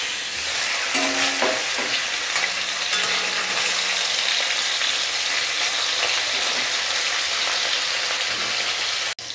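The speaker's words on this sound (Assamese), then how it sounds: "এইফালে এতিয়া মাছখিনি ফ্ৰাই কৰোঁ" Fish pieces frying in hot mustard oil in a wok, a steady loud sizzle with occasional stirring scrapes, heard alone without talk.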